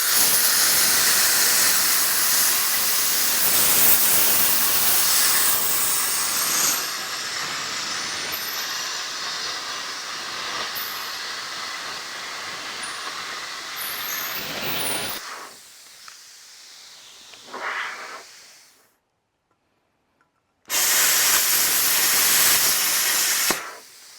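A plasma cutter hisses loudly and continuously while cutting a circle in metal, then fades, sputters briefly, falls silent and restarts with another strong hiss.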